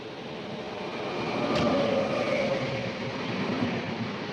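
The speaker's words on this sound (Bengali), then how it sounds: "দেখো পেন্ডুরটি স্টেশনে আমাদেরকে দাঁড় করিয়ে এই সাইডে একটা ট্রেন পাস হচ্ছে।" A train rumbles past steadily on the adjacent track at Pendurthi station while the listener's train stands halted. The sound swells slightly and holds a broad, continuous roar.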